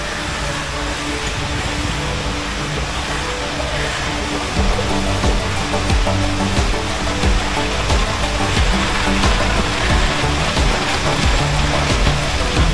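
A decorative artificial waterfall at a beach resort pours continuously in a loud, steady, close rushing wash that never lets up.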